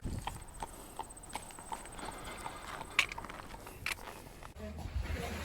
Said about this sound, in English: just after getting passed by that horse and cart